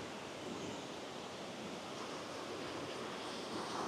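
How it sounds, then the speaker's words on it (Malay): Swift river rapids rush over rocks near the hill country of Bukit Fraser, a constant close roar of turbulent water without pauses or voices. "Ya, jeramnya air dia sangat deras."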